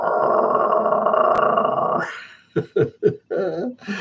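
A dog lying at someone's feet growls low and steadily for about two seconds, then breaks into several short whimpers and yelps, close by in a quiet room.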